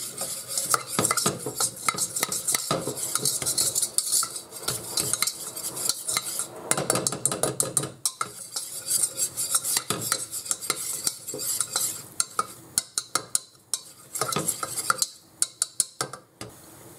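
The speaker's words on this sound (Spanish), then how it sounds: "Removemos la harina para que se cocine." A utensil scrapes and clinks against a pot while stirring flour with nutmeg to cook it for béchamel sauce, in quick irregular strokes close by, with no one talking.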